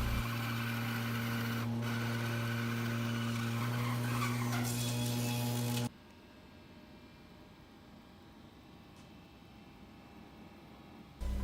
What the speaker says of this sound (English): I apply my top view template and saw it out on the bandsaw